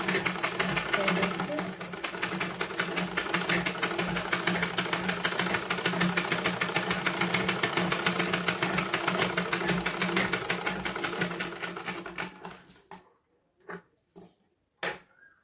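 A sewing machine stitching a blouse, running as a steady rapid mechanical chatter for about twelve seconds before stopping, followed by a few brief isolated clicks, close by with no talk over it.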